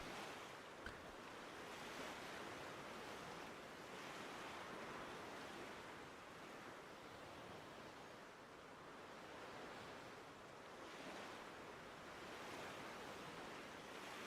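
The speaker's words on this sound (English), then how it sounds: "Can you guys hear these waves?" Ocean surf washes steadily onto a shore in broad, continuous rushes, with mild wind noise on the microphone and no talking.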